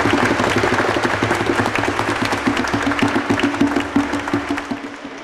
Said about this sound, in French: je propose qu'on les applaudisse